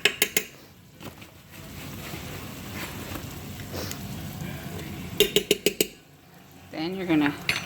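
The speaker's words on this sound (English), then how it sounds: "So we're going to keep moving this constantly, keep stirring it until you don't see like white" A spoon scraping and stirring flour into translucent onions in a soup pot, steady clinks and scrapes with a low sizzle, with bursts of sharp metallic taps and a voice talking over it.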